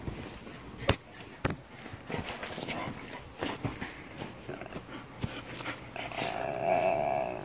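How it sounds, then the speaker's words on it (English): A heavy pet dog growls low and intermittently indoors, with soft thumps and a few sharp knocks around it, while a person talks over the top of it. "Don't you growl at me."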